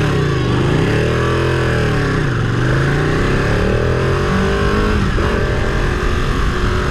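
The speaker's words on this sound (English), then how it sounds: "And now we're finally ready to roll on the Ducati." A Ducati 959 Panigale motorcycle engine runs continuously and loudly up close, its pitch rising and falling through revs in a steady roar.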